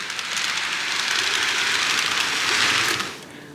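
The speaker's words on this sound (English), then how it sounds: "We got to move our train out of the way. Oops, come on, back into the yard" Model railroad train on a home layout rolling back into the yard, a steady close rumble and hiss of wheels on track that holds for about three seconds, then fades as it stops.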